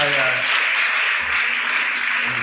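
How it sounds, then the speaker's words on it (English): Applause for a women's choir at a church convention, a sustained wash of many hands clapping with faint voices underneath. "Give them a round of applause"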